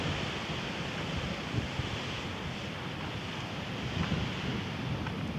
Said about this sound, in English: And this is the waterfall at Ridley Creek.